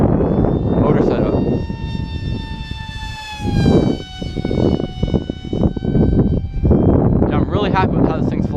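An upgraded FT Arrow RC plane with SunnySky 2207 2100kv motors, running on a half-dead 3S battery, flies past with a whining motor tone that slides down in pitch and fades, while a person talks over it.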